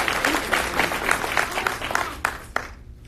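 A live audience claps loudly for about two and a half seconds, a dense burst of many hands that thins into a couple of final claps before fading to near quiet.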